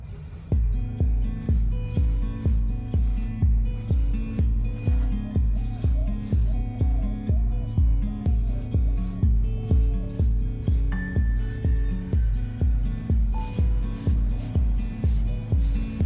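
Paint sprayed onto a vintage dining table top, steady hissing bursts in a regular rhythm, each pass starting and stopping sharply, close and fairly loud with no talking.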